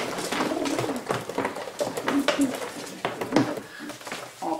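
Pigeons in a breeding loft cooing softly amid clattering and shuffling noises, with scattered bird calls throughout.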